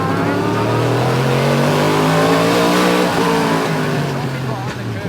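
Race cars accelerate during the final race of a national racing event, a loud, sustained engine drone rising in pitch and then easing, with a commentator talking over it.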